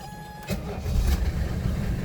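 A 1980 Mercedes 300SD diesel engine cranks and catches about halfway through, then settles into a loud, rough low idle close by.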